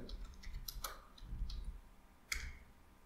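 Someone types a short command on a computer keyboard, producing a few faint, quick clicks and taps in a quiet room, ending with a slightly sharper keystroke.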